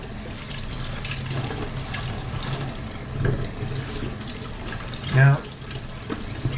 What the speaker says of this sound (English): we're just going to rinse them off really good